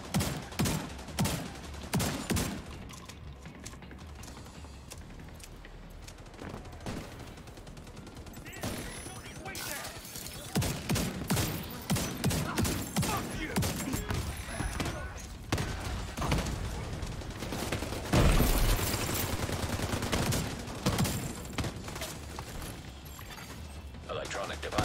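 Video game gunfire from The Division 2: Warlords of New York, dense bursts of automatic shots and scattered single cracks running throughout, with mechanical clanks and a player talking over the action.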